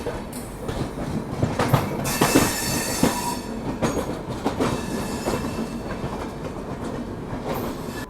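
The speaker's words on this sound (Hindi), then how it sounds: "और यहाँ बिल्कुल पैरेलल डिपार्चर जो है वो हो रहा है श्रमजीवी एक्सप्रेस के साथ।" Sampark Kranti Express train departing on rails in India, running parallel to the Shramjeevi Express, with a loud continuous rumble, clickety-clack of wheels over joints and occasional squeals throughout, no voices.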